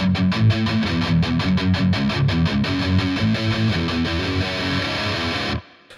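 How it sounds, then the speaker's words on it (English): Distorted electric guitar plays a steady, rhythmic palm-muted riff from a song, the chugging notes gradually opening up before cutting off abruptly near the end; no talking. "you can hear the palm muting kind of slowly lifting"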